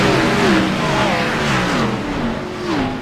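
Several race cars accelerate at Daytona in a racing video game, engines revving and rising in pitch across the whole stretch, loud and continuous with overlapping motor tones.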